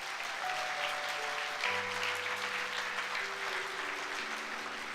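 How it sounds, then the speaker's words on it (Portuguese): A church congregation at a Sunday worship service applauds steadily for several seconds, a dense, even wash of clapping at moderate distance with soft organ or keyboard notes sustained underneath. "pode aplaudir Jesus"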